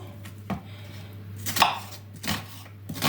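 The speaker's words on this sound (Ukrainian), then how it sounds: "А поки що поріжу цибульку." A knife chops green onion on a board in a few sharp, uneven strokes, close and crisp, with no talking.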